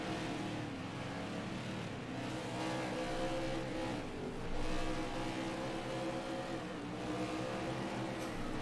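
Race car engines from the NASCAR 21: Ignition video game drone and whine continuously, swelling as the cars accelerate and pass, loud and steady throughout with no voices.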